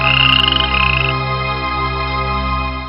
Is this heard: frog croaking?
yes